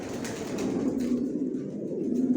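Racing pigeons coo softly and continuously in low, throaty murmurs, close by, with no speech.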